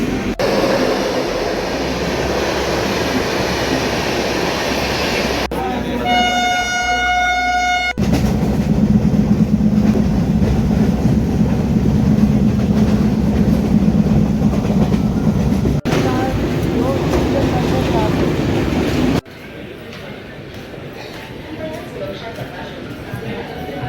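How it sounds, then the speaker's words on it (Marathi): Local commuter train on the Virar–Panvel line departing and running steadily along the tracks, with a continuous loud rumble and rhythmic clatter, a brief horn-like tonal burst early on, and the noise dropping suddenly near the end. "10 मिनिटामध्ये ट्रेन निघाली इकडे"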